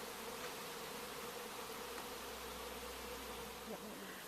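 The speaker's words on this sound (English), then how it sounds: "you can hear the bees being busy" A constant buzz of busy bees near a hidden hive along the Appalachian Trail by Burkes Garden, a close, unbroken insect hum with a few faint higher chirps, no voices.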